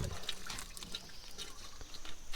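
Water runs and splashes from a tap in a clean campsite restroom at a watershed management unit on Doi Sam Muen, Chiang Mai, with irregular close splatters and drips.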